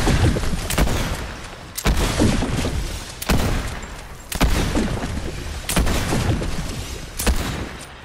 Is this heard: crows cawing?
no